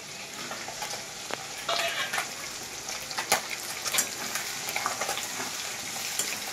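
Boiled potatoes go into a pan of frying spices, sizzling steadily with irregular stirring clatters and scrapes, close and moderately loud, no voices.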